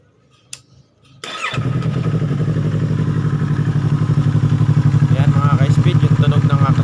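A 2019 Yamaha R3 motorcycle fitted with an Akrapovic M1 exhaust starts up and settles into a steady, moderately loud idle with a deep, rhythmic burble, heard up close.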